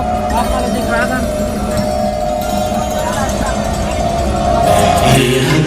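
Large, dense crowd at Bandha Talab, a steady loud roar of many voices and shouting with a rhythmic chant or song running through it, close and continuous, swelling slightly toward the end.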